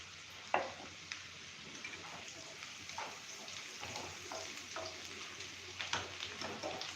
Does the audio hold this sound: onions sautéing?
yes